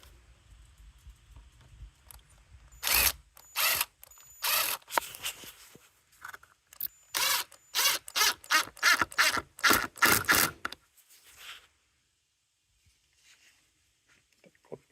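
A ratchet tightens a bolt on the throttle body of a 2022 Hyundai Elantra in a run of sharp, rapid clicking bursts, close and loud, then stops, leaving near silence.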